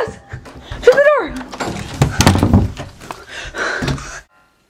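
A door is shut with a dull thunk during a frantic escape in a killer movie, landing amid panicked, overlapping shouting and breathless talk.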